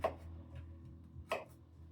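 A kitchen knife chopping carrots on a board, two crisp, close knocks about a second apart with faint softer taps between them, slow and unhurried.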